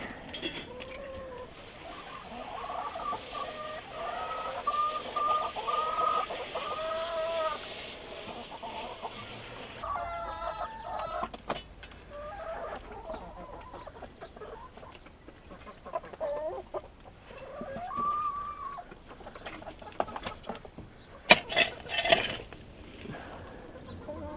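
Several chickens cluck and murmur continuously nearby, with occasional louder squawks and scratching sounds; no one speaks.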